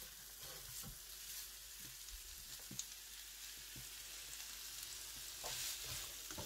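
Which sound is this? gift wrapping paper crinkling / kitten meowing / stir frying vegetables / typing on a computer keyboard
stir frying vegetables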